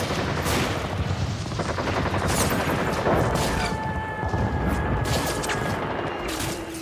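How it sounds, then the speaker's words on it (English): Gunfire from aircraft strafing a ship's decks with rockets, cannon and armor-piercing rounds, a dense rapid barrage of overlapping shots and blasts that continues throughout, loud and sustained. "They drop napalm and strafe its decks with rockets, cannon fire, and armor-piercing rounds"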